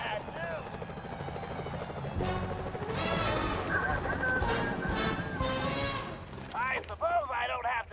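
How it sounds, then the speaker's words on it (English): Security helicopters in the PS3 game Sly Cooper: Thieves in Time (2013) drone with a steady rotor beat beneath a loud music score and voices throughout, swelling midway before the music briefly thins near the end. "Those security choppers are bad news."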